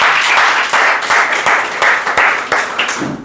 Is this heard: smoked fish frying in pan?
no